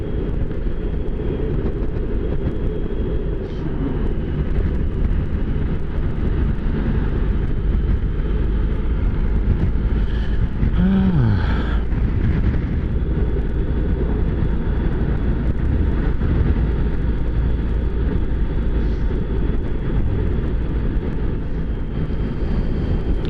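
A Honda ST1300 motorcycle on brand new tyres, ridden gently along a road near Mt Taranaki, New Zealand, makes a steady, loud engine drone and wind roar that carries unbroken throughout.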